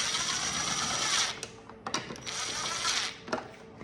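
Ratchet clicking in short back-and-forth bursts while tightening the fasteners on LED tinted JK-to-JL tail lights on a Jeep, with quick ratcheting strokes near and fairly loud, broken by brief pauses and small knocks.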